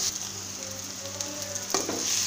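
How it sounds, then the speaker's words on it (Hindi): Onions fry in a pan for stuffed bitter gourd (bharva karela), giving a soft, steady sizzle with a faint stir or clink near the end. "ये देखिए, हमारा प्याज फ्राई हो रहा है।"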